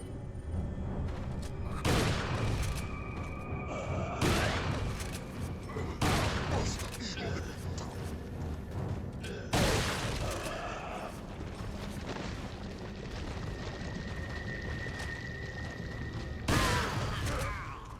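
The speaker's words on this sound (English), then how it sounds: "Maybe it's time for the shotgun again." A shotgun fires in Resident Evil 4, six heavy booming blasts spaced a few seconds apart, each with a broad echoing tail, over a low game ambience and occasional talk.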